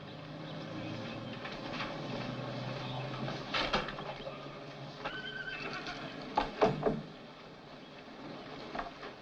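A horse whinnies amid a busy background of shuffling and clatter at a racetrack, with a couple of louder snorts or neighs near the end.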